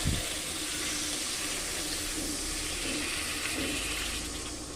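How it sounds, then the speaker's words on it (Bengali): Water poured into a cooking pot holding fried potato and cauliflower, a continuous close splashing rush that holds steady for several seconds. "এবার হলো জল দিয়ে দেবো"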